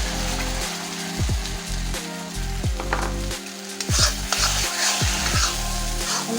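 Masala and ridge gourd sizzle as they fry in a pan, with a dense continuous hiss, regular scraping strokes of a spatula stirring, and a few knocks against the pan, all close and loud.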